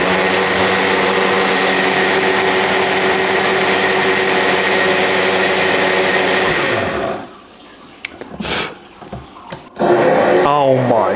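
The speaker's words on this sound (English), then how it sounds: "I need to use the blender" A kitchen blender drones loudly and steadily for several seconds, then cuts off abruptly, leaving brief clatters and handling noises before another loud burst at the end.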